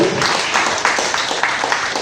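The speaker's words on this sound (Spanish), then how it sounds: "ponte de pie y dale un aplauso a Cristo por lo que Él hizo por nosotros" Church congregation applauding after a sermon, a fairly soft, steady patter of clapping with a few sharper claps, heard on its own without talk.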